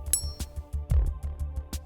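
A forged golf iron that is not GrainFlow forged strikes a ball with a bright, clinking metallic impact, quick and clear, over a repeating low thumping pulse and faint tapping.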